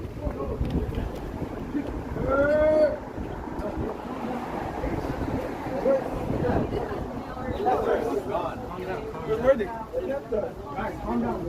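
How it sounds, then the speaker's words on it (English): Wind buffets an unshielded microphone on an evening downtown street, rumbling and gusting unevenly under nearby talk and faint city sounds. "now that my little wind muff is gone, you probably can hear the wind a lot more"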